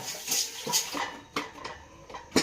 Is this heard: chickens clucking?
no